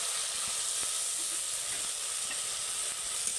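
Ground cumin, ginger and green chili paste sizzles in a hot pan for a vegetarian Bengali doi potol curry, a steady, loud, close hiss of frying with faint stirring clicks and no talk.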